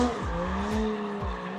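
Toyota JZX drifting at Ebisu Circuit, its engine revving in repeated rising sweeps under a sustained tire squeal, close and loud.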